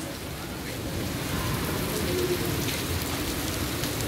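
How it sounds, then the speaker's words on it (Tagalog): Heavy storm rain in the UAE pours down steadily, a dense hiss of drops on surfaces with a low rumble underneath, no one speaking. "lakas ng ulan"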